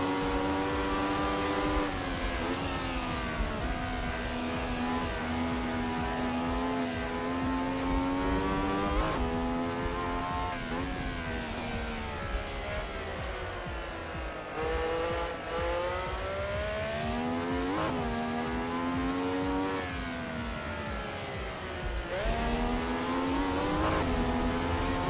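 Race car engine in the Assetto Corsa video game, revving up and down continuously with rising and falling pitch sweeps through repeated gear changes, loud and sustained over the whole stretch.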